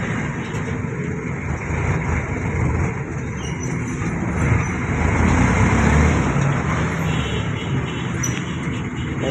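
Road traffic around a moving jeepney at a highway crossing in Tondo, Manila: a steady, dense rumble of engines and tires that swells slightly midway, with no voices.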